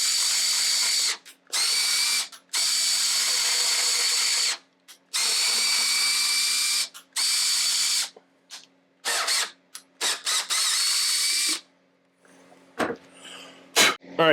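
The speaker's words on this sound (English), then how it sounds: "I'm just going to run my tap through the through hole" A 3/8 tap cuts threads through a through hole in pine, driven in repeated loud bursts of whining motor noise separated by short pauses, then trailing into irregular scrapes and clunks.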